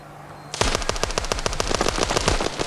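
Rapid automatic gunfire in the Standoff 2 mobile shooter starts abruptly and rattles on continuously, loud and close, in a fast even rhythm of shots.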